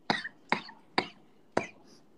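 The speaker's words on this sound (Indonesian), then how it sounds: "Sampai batuk-batuk aku sumpah." Four sharp coughs from one person, close and fairly loud, spaced about half a second apart with a slightly longer gap before the last, in a quiet room during a live stream.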